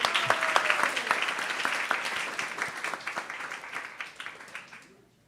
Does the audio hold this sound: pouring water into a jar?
no